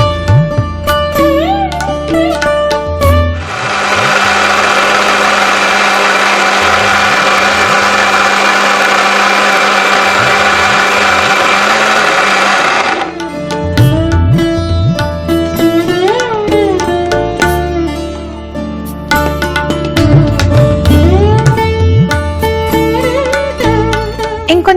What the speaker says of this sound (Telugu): దీన్ని మిక్సీ పట్టుకోవాలి